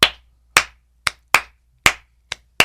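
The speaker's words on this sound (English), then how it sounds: "in the Gullah Geechee tradition, you will hear a clap," Sharp rhythmic hand claps in the Gullah Geechee tradition tied to Charleston jazz, seven crisp claps in a syncopated pattern, close and loud with silence between.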